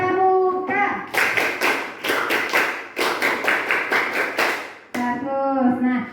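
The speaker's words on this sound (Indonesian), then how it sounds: "Satu kali tepuk pramuka." A classroom of children performs a scout-style rhythmic clap, a loud patterned burst of claps in quick groups and pauses, framed by a teacher's voice speaking before and after.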